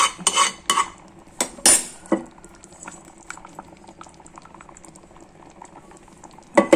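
A fish curry with ground coconut simmers in a clay pot, bubbling, with a few sharp clinks of utensils against the pot near the start and end, no voices.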